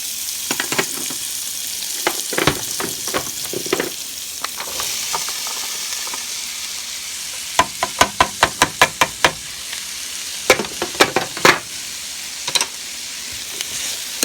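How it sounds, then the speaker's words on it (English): Garlic sizzles and fries in a hot pan, a steady crackling hiss broken by bursts of sharp taps and knocks, like a utensil striking the pan while stirring, with no talking. "I always put a little piece of garlic in there until it starts sizzling so that I know that it's hot."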